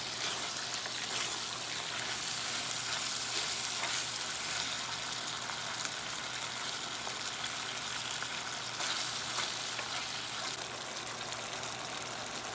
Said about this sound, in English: I use vegetable oil today to fry it up